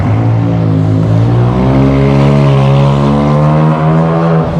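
Lamborghini Huracan Performante at full throttle on a race track, its exhaust a loud, close, sustained engine roar with steady rising harmonics across the whole clip and no talk.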